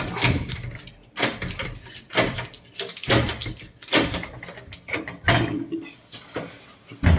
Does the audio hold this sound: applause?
no